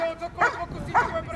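A police dog gives two short, sharp barks during a suspect-apprehension demonstration, close and loud amid background voices.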